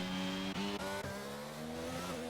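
A race car spins out during a race at Portimao, its engine holding a steady droning tone while tires briefly squeal and skid, heard continuously and fairly close over about two seconds.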